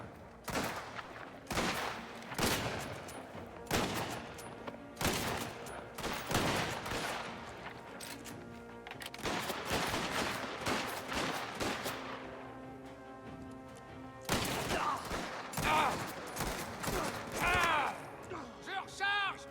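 Gunfire in the video game Mafia: The Old Country: dense bursts of repeated shots and impacts from a firefight, loud and continuous over about twenty seconds, with someone talking at times amid the shooting.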